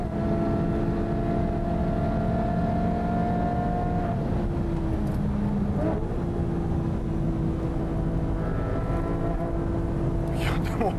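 A Porsche GT3 and a Ferrari F430 race car run down the straight, one slipstreaming the other, their engines holding a steady high drone with shifting pitch and gear changes, and a voice talks over it.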